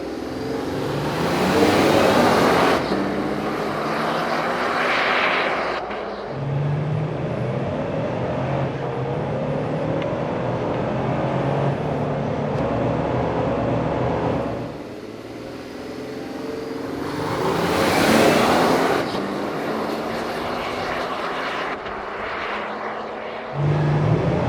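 A 2022 Toyota Tundra pickup accelerates hard during 0 to 60 runs, its engine roaring up through rising gear sweeps, easing off between shifts, then building loudly again for a second run, close and continuous.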